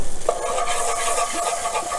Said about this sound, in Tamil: இப்போ பட்டர் மெல்ட் ஆனதுக்கப்புறம் மைதா மாவு வந்து கொஞ்சமாக ஒரு 1 teaspoon அளவுக்கு மைதா மாவு போட்டுக்கிறேன்